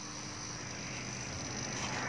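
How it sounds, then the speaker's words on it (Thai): Young frogs of the oad-oad kind, sold as fry at a Thai village stall, croak in a dense continuous chorus that stays steady and fairly loud throughout, with no voices over it. "คือกบออดออด"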